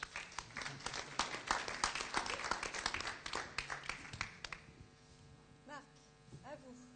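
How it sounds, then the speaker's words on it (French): A conference audience applauds a speaker with quick, dense clapping that thins and fades after a few seconds, leaving room hum and a brief voice in the background. "On peut l'applaudir, c'était pas facile."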